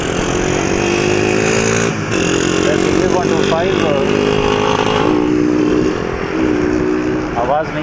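A 125cc motorcycle engine drones loudly and steadily close by, its pitch dipping and rising as it goes past, with a brief buzzy rise midway and a voice speaking faintly underneath.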